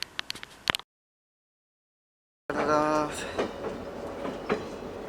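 A heritage railway train runs on the Port Alberni line after a brief stretch of silence, with rattling wheels and clanks, a squealing note and faint voices in the mix.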